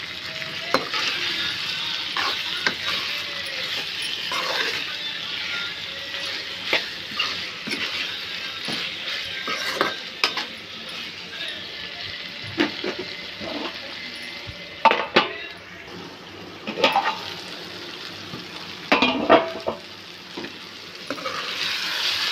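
Bottle gourd curry with tomato simmers and sizzles in a pan, a steady frying hiss broken by repeated sharp scrapes and clinks of a spoon stirring against the pan.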